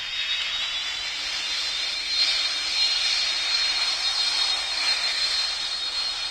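Boeing 747 jet engines in the PTFS video game produce a steady, sustained high-pitched whine and roar that stays constant in level throughout.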